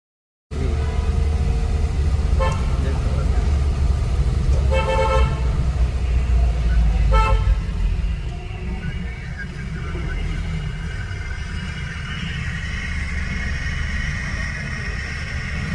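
Car horns toot several times in road traffic on the way into Bengaluru's Shivaji Nagar, sounding over a steady loud engine and road rumble inside a moving vehicle, with voices talking throughout.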